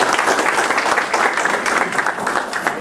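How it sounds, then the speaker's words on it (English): An audience at a public talk applauds a judge, a dense, steady wash of many hands clapping that carries on for about three seconds with no speech over it. "You might give the judge a round of applause."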